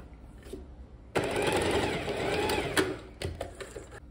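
A sewing machine stitches a blouse collar in one quick, loud burst of about a second and a half, with quieter handling noises before and after.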